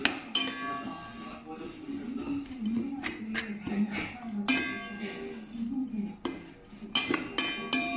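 Brown Korean jelly salad, mook muchim, being mixed in a bowl, with repeated clinks and scrapes of utensils against the dish in irregular bursts, close by, while a person talks at times.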